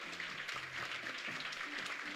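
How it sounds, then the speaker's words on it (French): An audience at a French conference on sovereignty applauds the pitchers about to take the stage, a soft, steady patter of many hands heard from a distance, fairly faint, with no clear talk. "je voulais vous demander d'applaudir les pitchers"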